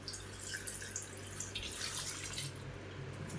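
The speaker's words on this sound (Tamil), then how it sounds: "ஒரு சில தண்ணியும் ஊற்றிப்போம்." Water splashes and trickles into a cooking pot, a continuous close pouring sound over a low steady hum.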